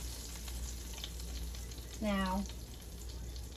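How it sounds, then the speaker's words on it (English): Vegetable oil and butter sizzle in a frying pan with a steady, close hiss throughout, and a voice speaks briefly midway. "Now I've got some vegetable oil and some butter in the pan"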